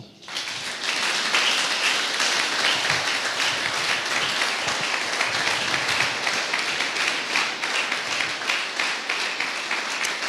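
A church congregation applauding during a worship service, a dense and sustained wash of clapping that starts abruptly and stays loud and steady throughout, with faint voices mixed in.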